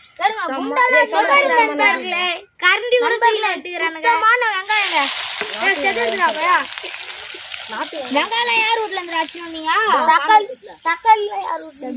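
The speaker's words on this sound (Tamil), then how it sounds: "வெங்காயம் வேகுது பாருங்க" Onions frying in a pot as children cook a shared outdoor meal, with a steady sizzle rising partway through and continuing under constant chatter from several kids.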